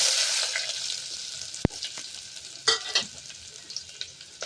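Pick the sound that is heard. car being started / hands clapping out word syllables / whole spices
whole spices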